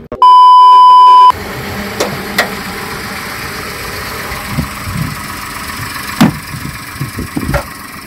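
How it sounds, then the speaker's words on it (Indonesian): A silver 2021 Daihatsu 1000 cc car engine idles with a quiet, steady low rumble, opened by a brief electronic beep and broken by a few sharp clicks and knocks. "Nah ini nih kondisi mesin Daihatsu Tigra D 1000 cc tahun 2021 warna silver."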